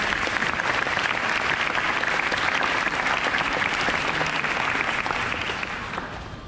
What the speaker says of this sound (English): So I just want to give you a round of applause.